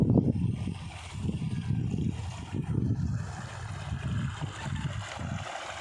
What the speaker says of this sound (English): The sound of water is really fascinating.